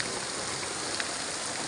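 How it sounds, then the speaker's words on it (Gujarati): Heavy rain pours down on a waterlogged farm field, a dense, steady hiss of falling water with no breaks, continuous and fairly loud. "ધોધમાર વરસાદ ચાલુ થયો છે।"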